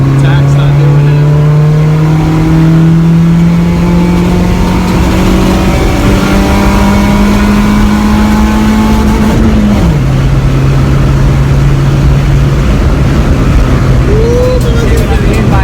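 A Honda car running a D15b7 ECU accelerates hard from a standstill, its engine rising steadily in pitch, dropping at a gear change, then pulling again, loud and close from inside the cabin with road roar beneath.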